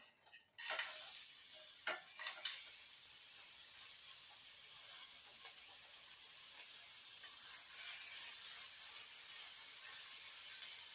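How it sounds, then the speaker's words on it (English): Meatballs drop into a preheated skillet and brown, a loud, steady sizzle that flares as they hit the hot pan, then holds as a dense, even hiss throughout. "I got my skillet preheated. So I'm gonna go ahead and throw my meatballs in there."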